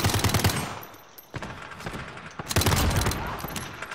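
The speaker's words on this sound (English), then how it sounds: "I love this Uzi" An Uzi submachine gun fires in Call of Duty Modern Warfare, loud rapid bursts of automatic fire at the start and end, separated by a short lull and scattered shots.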